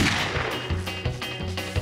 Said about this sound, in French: Mais tirez donc, bande de momies!